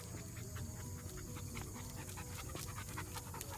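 A dog pants rapidly and rhythmically close up, quick breathy huffs repeating without pause.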